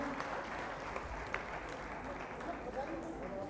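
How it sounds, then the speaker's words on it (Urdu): Sustained audience applause filling a hall at the opening ceremony of the 15th Aalmi Urdu Conference at the Arts Council of Pakistan, steady dense clapping throughout with no break. "بہت ساری تالیاں"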